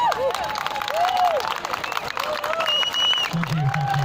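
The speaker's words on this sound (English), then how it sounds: "Big round of applause for Mark, please." Stand-up comedy show audience in Bristol applauding and cheering a comic coming on stage, a steady wash of clapping with whoops and voices mixed in throughout, loud and close.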